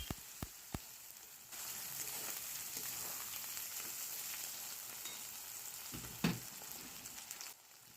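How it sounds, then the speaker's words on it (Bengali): Chopped ginger and chili fry with onions in a pan, giving a steady, close sizzle with a few clinks of stirring at the start and a utensil knock near the end. "আদা আর লঙ্কা কুচিটা একসাথে পেঁয়াজের সাথে ভেজে নেওয়া হচ্ছে"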